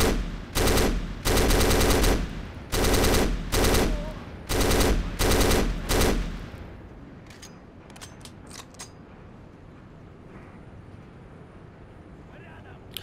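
Automatic gunfire in the Xbox shooter Black comes in loud, close bursts, about six long rattling volleys one after another, then fades to quiet game ambience with a few faint distant shots.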